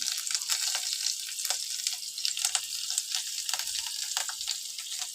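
Curry leaves, turmeric and chili sizzling and frying in hot oil in a pan, a steady close crackling hiss with scattered pops, no voices.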